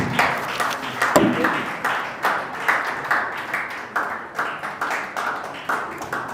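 Audience applause at the launch event of an AI and robotics research and training center after a speech, heard as a thinner spread of separate claps in uneven bursts, fairly close and moderately loud.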